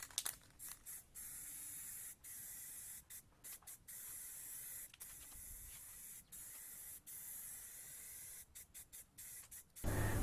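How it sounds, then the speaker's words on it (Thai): Black matte spray paint hisses from an aerosol can onto a welded, rust-sanded steel pole for a solar lamp post, in a series of steady bursts broken by short pauses, close and alone. "ผมก็ใช้เป็นสีสเปรย์สีดำด้านนะครับใส่เข้าไป"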